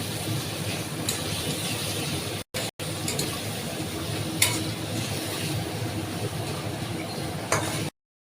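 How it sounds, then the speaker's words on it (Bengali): Onions frying with a little salt for mutton kosha, a steady hissing sizzle with light stirring scrapes and a few clinks, close, with two brief cuts to silence and no speech. "একটুখানি লবণ দিয়ে একটু নাড়াচাড়া দিয়ে দিচ্ছে"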